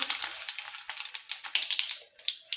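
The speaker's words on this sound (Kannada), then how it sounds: "ಈಗ ಜೀರಿಗೆ ಸಾಸಿವೆ ಹಾಕ್ತೀನಿ ನೋಡಿರಿ" Cumin and mustard seeds sizzling and crackling in hot oil, a dense run of sharp pops and hissing bursts, close and fairly loud, with no talking.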